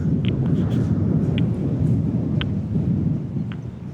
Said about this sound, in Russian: А ветер какой по реке здесь.